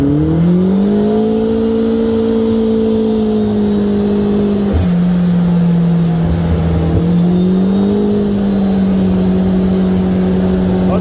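A Turbo Pro R vehicle with a 405 hp turbocharged engine accelerates down a street, its loud engine note climbing through gears with a brief shift break and a turbo whistle overhead, heard from inside.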